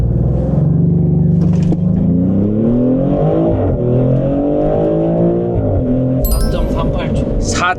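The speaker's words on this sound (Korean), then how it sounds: "여기서 그냥 시속 100km까지 가속을 잠깐만 좀 해보겠습니다" A Maserati GT electric car accelerating hard to 100 km/h, heard from inside as a loud rising electric motor whine with climbing tonal bands, while people talk and exclaim over it.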